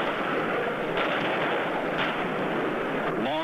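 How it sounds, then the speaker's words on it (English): Long-range Israeli artillery shelling southern Lebanon in 1980 news footage, a steady, dense roar of distant gunfire and booms with faint thumps rising through constant broadband noise. "Long-range Israeli artillery, sending shell after shell into southern Lebanon."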